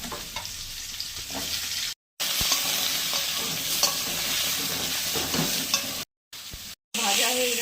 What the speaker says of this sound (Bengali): আলু পটলগুলো ভেজে তুলে নেব।